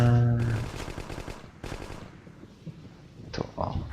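Automatic gunfire crackles in bursts during a Hidden & Dangerous Deluxe mission, moderately loud and somewhat distant-sounding, with a few sharper reports near the end.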